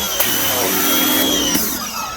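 An AR Blue Clean BC2N1HSS electric pressure washer, rated 2300 PSI and 1.7 GPM, runs with a steady, moderately loud motor hum and a sustained high whine, brief clicks near the start and midway.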